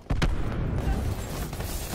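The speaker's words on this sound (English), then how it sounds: "Cluster grenade." A cluster grenade goes off in the shooter Black Ops 4, a sharp burst followed by a sustained, rumbling roll of booms and crackle that stays loud through the whole moment.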